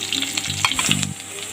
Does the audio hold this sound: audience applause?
no